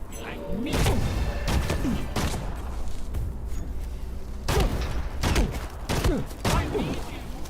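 Repeated bursts of gunfire in the Evil Dead: The Game video game, sharp broadband shots in irregular clusters over a constant loud background of game sound and mechanical clatter.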